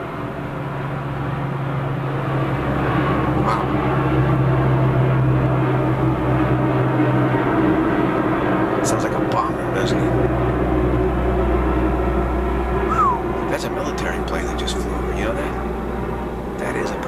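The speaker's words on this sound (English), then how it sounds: "that's a nasty sounding plane, isn't it?" A propeller airplane flies overhead with a low, steady drone, somewhat distant, while faint murmuring and a few brief clicks and knocks surface over the continuous rumble.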